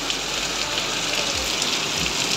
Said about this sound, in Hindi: कहे कि ज़्यादा जोर से बारिश हो रही है